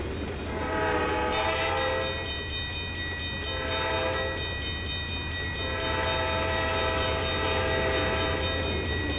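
A locomotive horn sounds in the Trainz 2022 railroad simulator, with long, loud, sustained chord-like blasts repeating in a steady pattern over the rolling rumble and clatter of the train.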